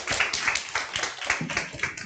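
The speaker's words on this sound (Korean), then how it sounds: "큰 박수 부탁드리겠습니다" Audience applause at a corporate group meeting, fairly quiet clapping from a modest crowd with distinct individual claps in a steady patter over about two seconds.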